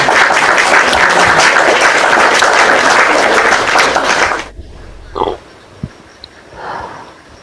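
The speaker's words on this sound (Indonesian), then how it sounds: "Tepuk tangan buat Oten" Audience applause for a man named Oten, loud dense clapping that cuts off abruptly partway through, followed by a few scattered thumps and quiet room noise.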